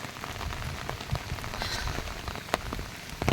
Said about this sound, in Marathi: पाऊस काय आज आम्हाला सुट्टी देत नाही पूर्ण पाऊस आहे बघा